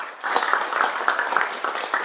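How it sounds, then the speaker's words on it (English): Audience applause for KC Fresh at an AppeTED talk event, a steady patter of clapping hands that begins after a brief quiet moment and carries on evenly without voices. "A round of applause for KC Fresh"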